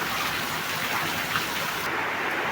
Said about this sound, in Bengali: অনেক বৃষ্টি দেখেন